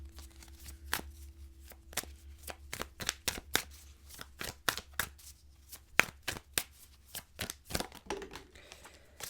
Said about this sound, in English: Let me pull from the astrological oracle deck here.